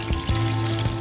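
A fish tail fries in a pan beside a dock in Dana Point, a steady close hiss of oil with a low hum and a few soft knocks.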